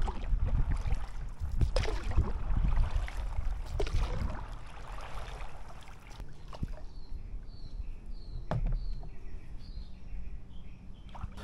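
A paddle board is paddled across open water near the shore, with soft splashes and gurgling strokes that come in uneven bursts, loudest early on, while birds chirp faintly in the background.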